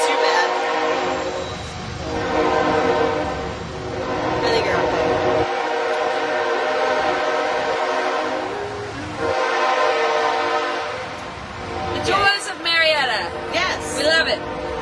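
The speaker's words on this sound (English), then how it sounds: "We're going to wait just a sec for the train to pass." A train rolling past at close range, a loud sustained rumble and horn blasts filling most of the stretch, with people talking at the end as it fades.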